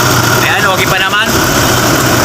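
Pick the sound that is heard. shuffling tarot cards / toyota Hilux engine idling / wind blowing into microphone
toyota Hilux engine idling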